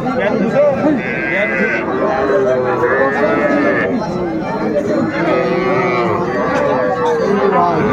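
Cattle moo repeatedly, close and loud, at a busy rural livestock market in Dinajpur, Bangladesh, where young bulls and calves are sold, over a steady murmur of crowd chatter and voices.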